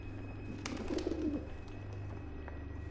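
Pigeons in the video game Observer give a short, soft burst of cooing over a steady low hum, then fall quiet.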